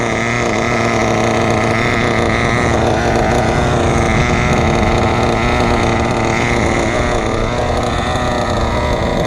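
A small nitro engine in a Kyosho Inferno NEO 3.0 RC car runs steadily and loudly throughout during break-in, a continuous buzzy drone with no pauses or revs.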